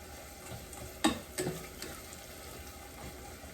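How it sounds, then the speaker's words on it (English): Chopped onions with a pinch of salt sautéing in a pan for vegan gravy, a low sizzle with a couple of sharp stirring scrapes near the start, then a steady quiet hiss. "We're going to saute this for a couple of minutes until they're fairly translucent"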